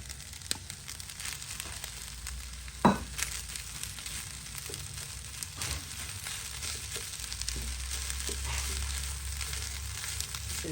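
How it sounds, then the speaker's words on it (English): Eggs fry in a hot pan for egg fried rice, a steady broadband sizzle and crackle with a few sharp pops and scraping stirs, fairly close. "So right now we're just gonna be adding all the eggs."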